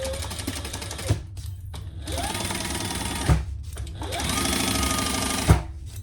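Sewing machine stitching a lining to an upper lining along a seam: loud, rapid mechanical running in long bursts with short pauses and clunks between runs, alone without talk.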